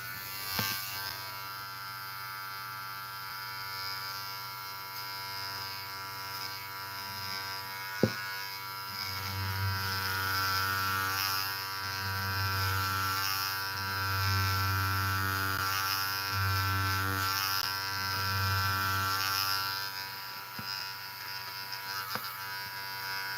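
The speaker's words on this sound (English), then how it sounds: "We are shaving this thing because I need the fluff from the leftover fur scraps" Electric shaver shaving leftover fur scraps, a close, steady buzzing hum that runs the whole time, its pitch and strength wavering slightly as it moves through the fur, with one sharp click partway through.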